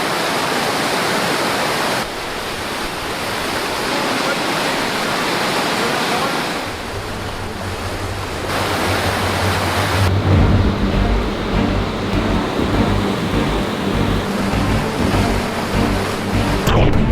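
Train Trestle Rapids on a remote Canadian wilderness river, a loud steady roar of rushing whitewater with no voices, the broadband rush shifting in tone partway through as a deeper low rumble comes in.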